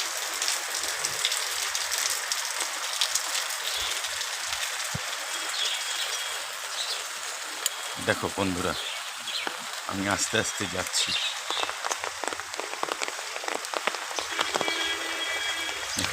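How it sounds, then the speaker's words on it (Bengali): Steady rain falls outdoors on a market day along a busy road, a continuous hiss close by throughout, with someone speaking over it and brief low thumps and traffic-like rumbles midway. "দেখো কি সুন্দর বৃষ্টি বৃষ্টি হচ্ছে"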